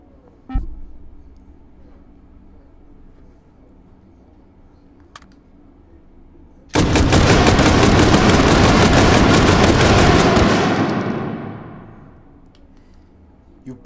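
An AA-12 automatic shotgun fires Cannonball rounds: a lone sharp pop first, then a loud, sustained rapid-fire burst of about four seconds that crackles like fireworks before tailing off.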